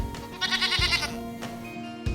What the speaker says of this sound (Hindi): ये है बकरी और बकरी मिमियाती है